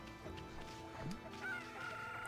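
A chicken clucks in the video game Okami HD, a few short faint clucks over quiet game background sounds, with no speech.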